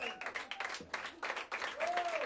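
A concert audience in Rome claps for a band. The applause is fairly quiet and comes in uneven bursts, with a voice and some crowd noise mixed in.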